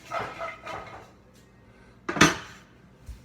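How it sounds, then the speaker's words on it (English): A pot of sweating onions is shaken one-handed on a stove, giving a few soft metallic scrapes and sizzling shuffles, then one sharp, loud clank of the pot, close up and with no talking. "while sweating out the onions, I'm able just to hold it before it gets too hot as well with one hand and just kind of shake it around"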